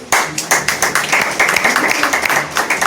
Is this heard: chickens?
no